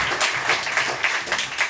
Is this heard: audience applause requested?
yes